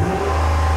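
A Dodge Ram pickup's engine runs loud and close just after starting, holding a steady deep idle with a low droning hum and a slight lift in revs, no talking over it.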